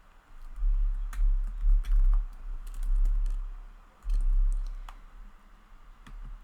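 A password is typed on a computer keyboard in bursts of quick, close key clicks, with brief pauses between runs and no talking.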